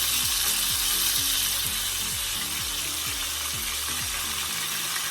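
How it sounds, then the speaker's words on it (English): Onion and tomato sautéing in hot oil on a stovetop turned low, a steady close sizzle and crackle running throughout with a rhythmic scraping of a utensil stirring the pan. "So now I'm gonna saute my vegetable. I'm gonna start off with my onion and tomato first."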